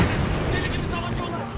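Loud, dense burst of booming gunfire from a game, heavy low rumble with rapid overlapping shots, no clear gaps.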